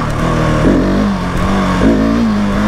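A 2020 Husqvarna 701 SM motorcycle with an installed fuel dongle accelerates in first gear, its loud single-cylinder engine revving up in two rising surges, close and continuous, no talking.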